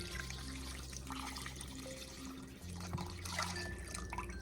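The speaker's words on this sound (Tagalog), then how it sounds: "Tapos po natin yung ating tubig. 10 cups po itong tubig na gagamitin natin." Ten cups of water poured into a cooking pot with garlic and bay leaves for Kapampangan pork sisig, a steady dripping, splashing stream under a low background hum, without talking.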